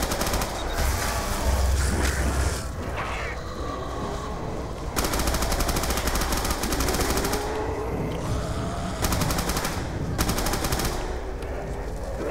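Rapid bursts of Tommy Gun fire rattle out in the Mob of the Dead zombie video game, several sustained loud automatic volleys separated by short pauses amid game noise.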